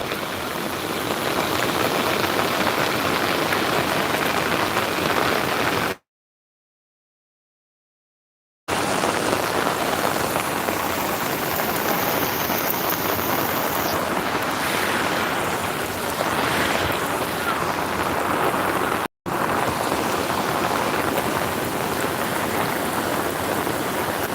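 Steady heavy rain pours down across a village, a dense continuous hiss of drops on surfaces that fills the whole stretch, broken by one brief gap of silence, with no voices.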